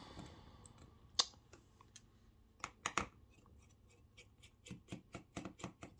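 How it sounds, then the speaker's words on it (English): A screwdriver works small Phillips screws loose on a Samsung M12 phone, producing a quiet series of sharp close clicks and scrapes that grow more rapid and rhythmic toward the end. "we just get our screwdriver, get these screws loose first"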